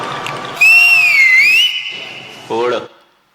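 Cricket fans blowing whistles for Chennai Super Kings give one loud, sustained shrill whistle whose pitch bends up and down for about a second. A voice speaks briefly before and after it.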